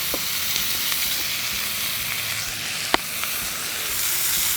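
Mushrooms sizzle loudly and steadily in garlic butter in a pan, a close, even hiss broken by a few faint clicks from stirring, with no talking.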